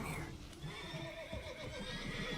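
Horses neighing and whinnying in The Witcher 3: Wild Hunt at Bald Mountain, several loud, close calls overlapping with faint clip-clop of hooves over a steady game ambience throughout.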